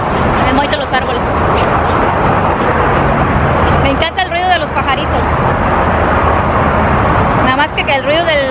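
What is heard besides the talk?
freeway traffic noise nearby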